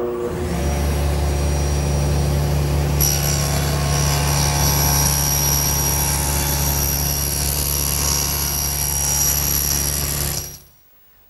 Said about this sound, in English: Now the first step is to just cut through this leg.